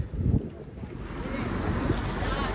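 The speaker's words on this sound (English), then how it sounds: "Wind's blowing a little bit" Wind buffets a boat out on open water, a steady low roar of gusts against the microphone mixed with the wash of waves.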